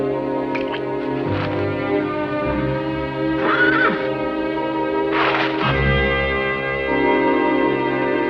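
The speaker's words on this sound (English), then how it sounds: "My poor Beauty, my good horse." Cartoon horse neighing in an animated Black Beauty story, a loud whinny with a shaky rising-falling pitch, then repeated a few times over a sustained music bed.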